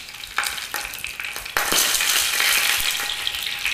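A rack of lamb sizzles loudly and steadily in a hot pan up close, with a few sharp scraping or shifting sounds cutting through the frying hiss.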